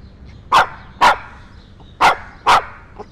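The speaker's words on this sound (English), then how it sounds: "why are you barking?" A dog barks four times in two evenly spaced pairs, loud and close, with a faint yip at the end and quiet background between barks.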